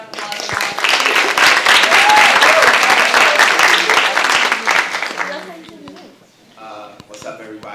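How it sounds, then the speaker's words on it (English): An audience at a panel on student and youth organizing breaks into loud, sustained applause and clapping that fades out over several seconds. "let's give a round of applause"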